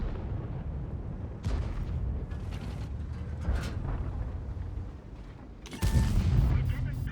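Tank cannon firing an APCR shell in World of Tanks, a loud booming blast near six seconds over a continuous rumbling engine and battle background, with earlier muffled thuds.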